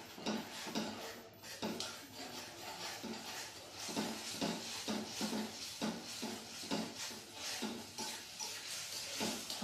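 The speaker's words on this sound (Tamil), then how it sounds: "அப்படியே இதை லேசாக கிளறி விடுங்க" A thick paste is stirred in a pan heating on a stove, giving repeated soft scraping and clinking strokes in a steady rhythm, close and moderately loud, with no talking.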